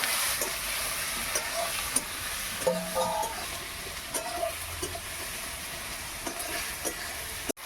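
Chopped tomatoes and onions stir-fried together in a pan for a drumstick (sojne data) curry, giving a steady close sizzle broken by scraping stirs and soft clinks of a spatula, with no talking.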